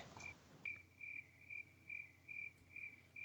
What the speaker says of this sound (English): Do you have that crickets sound effect?